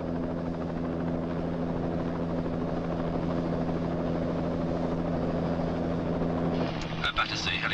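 A helicopter flies over London, its rotor and turbine drone loud and steady throughout, with a brief radio-like burst near the end.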